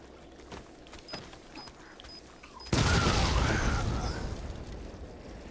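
A few faint thuds give way to a sudden loud bomb blast in Resident Evil 7 that rumbles on for a couple of seconds before slowly fading.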